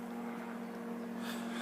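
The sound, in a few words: aircraft flying overhead, helicopters or gliders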